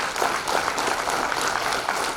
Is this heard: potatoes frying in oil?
no